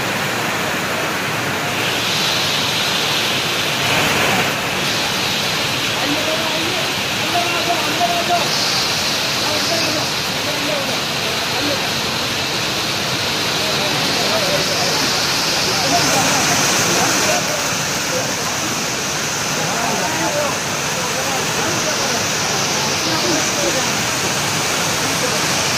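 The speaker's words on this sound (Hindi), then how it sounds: "बारिश भी आ गई है।" Steady rain falling during a convoy journey from Hyderabad, a dense, even hiss filling the whole stretch with no clear breaks, heard close and fairly loud.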